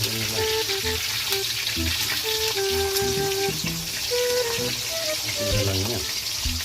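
Boiled pork pieces fry in a pan with a steady, close crackling sizzle throughout, while faint voices and kitchen sounds come and go underneath.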